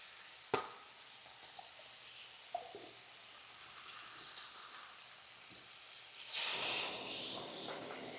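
Vegetables and spices being sautéed in a pan with a splash of spice-bowl rinse water cooking off, a steady close sizzle and hiss that swells to a louder burst of frying near the end, with a couple of sharp utensil knocks.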